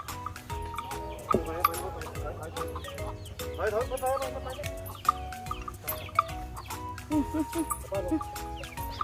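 Chickens cluck in short bursts amid busy voices and clatter, with sharp knocks scattered throughout; people talk over the birds nearby.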